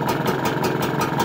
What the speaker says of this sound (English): And I'll stop the engine.